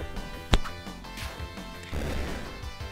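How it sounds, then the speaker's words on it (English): A forehead thuds onto a desk in a single sharp knock near the start, loud and close, over faint video game sounds in the background. "that was the sound of my forehead hitting the desk"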